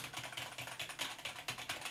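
Rapid clicky keystrokes on a semi-mechanical, metal-bodied gaming keyboard come in a fast, even patter, close and fairly quiet, with no voices.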